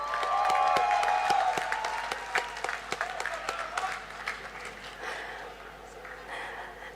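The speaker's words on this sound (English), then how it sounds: "Let's give a big round of applause for Miss Suchoi T from Nagaland." A crowd applauds at the closing ceremony of the 3rd North East Games in Nagaland, 2024, with loud clapping at first that thins into scattered claps and fades away.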